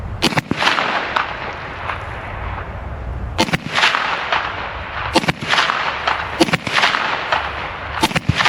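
A Kel-Tec Sub2000 Gen 3 9mm carbine fires at an outdoor range, sharp loud reports spaced irregularly about a second or more apart, with some shots in quick pairs, close and booming with echoing tails.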